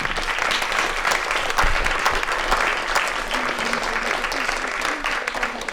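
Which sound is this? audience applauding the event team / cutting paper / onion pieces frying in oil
audience applauding the event team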